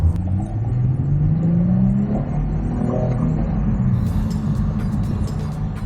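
A Honda Fit e:HEV RS hybrid, driven in normal mode on an ordinary road, gives a steady close interior rumble of engine and road noise, with a faint rise in pitch as it accelerates and no talk.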